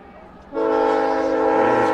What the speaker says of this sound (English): hear the train coming through.